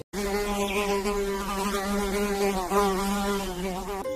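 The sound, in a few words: house fly buzzing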